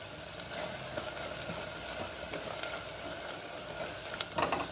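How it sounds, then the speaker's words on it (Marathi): Bedgi chili powder, onion-garlic masala and garam masala being stirred in a hot pan for a Marathi black-eyed pea and potato curry, a faint, steady sizzle with light scraping and a slightly louder clatter at the end. "आता हे सगळं व्यवस्थित मिक्स करून घेऊया।"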